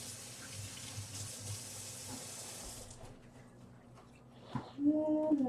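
A tap runs in a sink for rinsing hands and tools during a home yarn-dyeing session, a steady close rush of water that cuts off after about three seconds, followed by faint clatter and a short voice.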